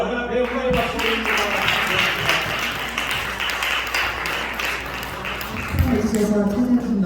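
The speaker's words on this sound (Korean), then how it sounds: "하나님 영광의 박수 드립니다" A congregation claps for God's glory at the close of a pastor's ordination service in a Korean church in New York, a dense, sustained patter of hands mixed with voices talking over it.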